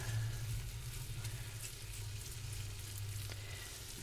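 Ground beef sizzles and fries steadily in a pan as it browns for Texas red chili, a continuous close crackle with a low hum beneath and no talking.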